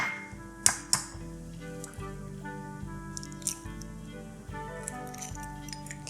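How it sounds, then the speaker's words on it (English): An egg cracked against a small bowl while making peanut butter chocolate chip cookies, two sharp close taps early on, then faint drips and clinks over a steady background hum. "crack our egg"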